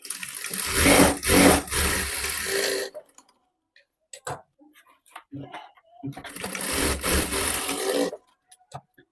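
A sewing machine stitches pleats on the back of a blouse in two loud bursts of rapid mechanical whirring, separated by a quiet gap with small handling clicks.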